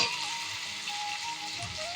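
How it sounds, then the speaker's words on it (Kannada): Washed vegetables tipped into a hot pan of softened fried tomatoes for vegetable upma, producing a steady, close sizzle and crackle with faint stirring, no voices. "ಇವಾಗ ತರಕಾರಿಗಳನ್ನ ಹಾಕ್ತಾಯಿದ್ದೀನಿ."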